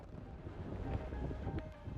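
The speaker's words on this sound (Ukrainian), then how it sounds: "Вітер 20 метрів на секунду." Strong mountain wind of about 20 m/s buffets the microphone high on the approach to Island Peak, a steady low roaring rush with gusty surges throughout and no talk.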